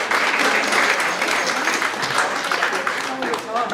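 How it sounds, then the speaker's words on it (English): Audience applause at a ballroom dance presentation after a Latin medal performance, dense, loud and sustained clapping filling the whole stretch, with no voices over it. "Round of applause for"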